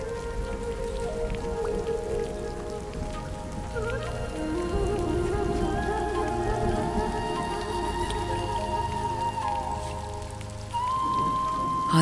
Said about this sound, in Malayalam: ആദ്യ മഴ,